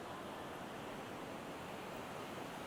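Ocean surf washing steadily onto a beach, a continuous broad hiss of breaking waves heard up close with no talk.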